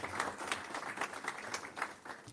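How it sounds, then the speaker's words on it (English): A forum audience on mental health in Phoenix applauds its sponsors and supporters, a moderate, continuous patter of many hands clapping in a room, steady throughout the short stretch. "Let's please give our sponsors and supporters a big round of applause."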